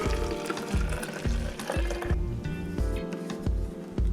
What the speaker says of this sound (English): So all we're gonna do is just pour in the hot water.